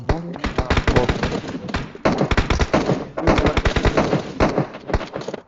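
Gunfire from all sides in the mobile battle royale game PUBG Mobile: loud, rapid automatic bursts in close succession, with a brief pause before another long volley, sounding near and intense.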